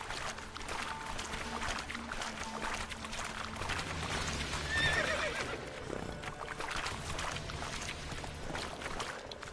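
Geralt's horse Roach gives a clear whinny in The Witcher 3 amid hoof clops and background ambience, moderately close, with no talk.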